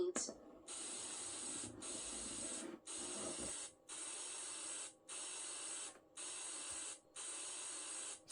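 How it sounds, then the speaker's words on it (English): Electronic spray-paint sound effect from a Fisher Price Digital Arts and Crafts Studio toy: a steady, bright hiss repeating in about seven even bursts with short gaps, fairly quiet and alone. "Let's spray paint."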